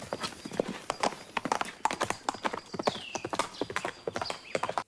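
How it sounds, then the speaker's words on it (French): A horse's hooves clip-clop in a brisk, continuous galloping rhythm, close and clear, with a brief whinny partway through. "il saute sur un cheval pour la précéder à Varennes"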